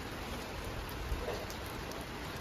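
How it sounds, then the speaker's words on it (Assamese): Sudden rain falling outdoors, a steady even patter of drops across surfaces, continuous and fairly loud with no talk. "হঠাতে এনেকৈ বৰষুণ দিব ভবাই নাছিলোঁ"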